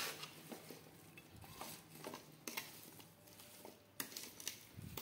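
Mango pickle pieces being mixed in a pan, soft clinks and scrapes of a spoon against metal in irregular bursts, quiet and close.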